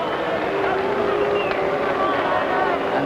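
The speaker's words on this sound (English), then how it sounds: "and they are applauding now." Crowd at a heavyweight boxing match in New York applauding and booing near the end of the final round, a dense steady roar of claps and voices throughout, with a commentator talking over it.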